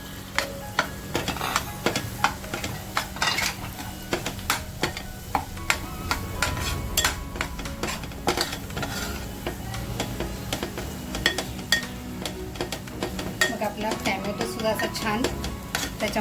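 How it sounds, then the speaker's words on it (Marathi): Minced mutton keema fries in a pan, sizzling continuously while a spoon stirs and scrapes it in frequent clanking strokes, close and fairly loud. "आता जो खिमा घेतलाय ना तो खिमा मी इथं फ्राय करणार आहे"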